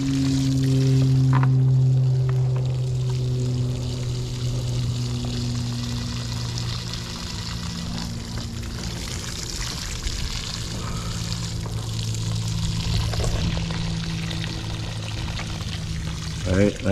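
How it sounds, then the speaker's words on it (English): Water pours steadily from a hose or can onto garden soil to soak in biochar around tomato plants, a continuous splashing gush with a low humming tone underneath. "We're going to go around and just water all the biochar into the ground"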